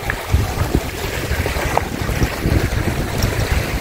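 Ocean surf rolling onto the west coast of England, a steady broadband wash with constant wind buffeting the microphone, loud and close, with no voices.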